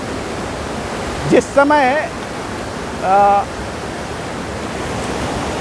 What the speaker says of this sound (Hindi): पानी आ रहा है, बढ़ रहा है, मुझे भिगो भी रहा है